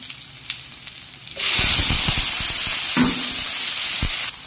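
Salmon sinigang with batwan being stirred in a pot: a sudden loud hiss and sizzle that starts partway through and holds steadily, with scraping knocks under it before it cuts off near the end.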